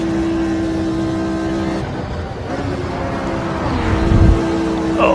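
A vintage race car passes in a racing sim recreating the 1970 Spa-Francorchamps long circuit, a steady loud engine drone that dips and then swells as another car roars past.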